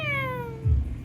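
A person in a playful laughing game imitates a big cat's meow with one drawn-out, falling, nasal vocal wail, close and clear, followed by a short low thump.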